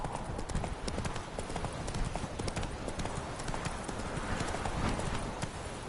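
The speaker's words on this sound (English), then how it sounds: "Whoa there, Roach" Horse hooves clip-clop steadily and continuously in The Witcher 3 on PS4 Pro, a close, dense run of hoofbeats with a possible brief whinny.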